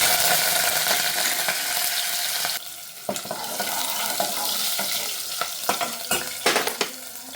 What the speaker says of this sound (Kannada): ಇವಾಗ ಎಣ್ಣೆ ಕಾದಿದೆ. ಸಾಸಿವೆನ ಹಾಕ್ಕೊಳ್ಳೋಣ. ಸ್ವಲ್ಪ ಜೀರಿಗೆನೂ ಹಾಕ್ಕೊಳ್ಳೋಣ.